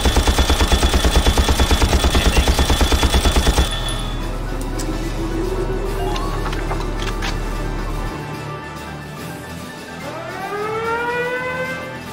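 Rapid automatic gunfire rattles in a steady fast rhythm in the Valkyria Chronicles strategy game, then cuts off into a low hum, scattered clanks and rising whistling tones near the end.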